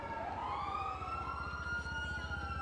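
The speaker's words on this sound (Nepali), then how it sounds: "कति साइरन बजे हो पुलिसको साइरन" Police siren from the GTA 5 video game wails in a steady rising and falling tone, loud and close, over a rapid low engine-like rumble, with no talk.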